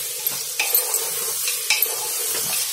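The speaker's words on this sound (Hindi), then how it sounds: "इसको भी हम भून लेंगे अच्छे से।" Chopped tomatoes sizzle in hot oil and spices in a pan while cooking vegetable pulao, with a constant fry hiss and a few soft scrapes as a spoon stirs them, close and clear without talk.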